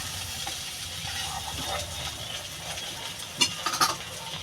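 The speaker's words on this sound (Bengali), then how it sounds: "আমি এবার টকটা কষিয়ে দেবো" Prawn heads and olive sour curry being sautéed and stirred in a pan give a soft, steady sizzle, broken near the end by a few sharp scraping clinks of the spoon against the pan.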